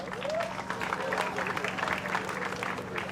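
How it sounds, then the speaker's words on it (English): Applause from a surf contest crowd at the Lexus Pipe Pro, dense and steady clapping that runs throughout alongside a speaking voice. "Let's give our supporters a round of applause."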